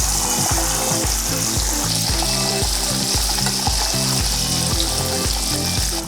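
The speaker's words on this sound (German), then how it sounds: "jetzt lassen wir es so richtig schön anblubbern und wenn es unten goldbraun ist, dann drehen wir es um" A breaded pork chop fries in a pan of hot fat, a loud steady sizzle and crackle with bubbling, and a faint rhythmic background beat runs beneath it.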